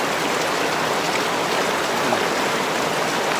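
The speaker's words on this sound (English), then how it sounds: "this spring you can see right behind me here" Mountain spring water flows in a steady, dense rush close by, a continuous broadband splashing and gurgling with no pauses and no voices.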